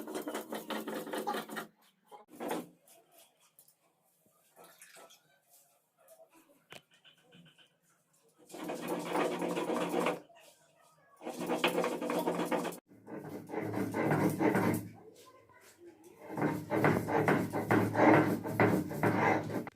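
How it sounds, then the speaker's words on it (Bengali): Turmeric ground by hand on a grinding stone makes close, rough, rhythmic scraping in several long bursts, separated by quiet pauses with faint small sounds. "আর এখানে বসে আমি এখন হলুদটা বেটে নিই।"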